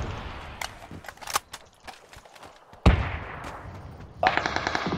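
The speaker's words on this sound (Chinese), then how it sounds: "枪声" Gunfire in a shooting video game: rapid bursts of automatic fire and single sharp shots, loud and close, with a sudden heavy volley near the end.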